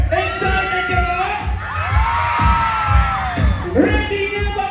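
Festival crowd cheering, whooping and clapping for performers, with children's shouts and an amplified voice calling out over a loud, continuous roar.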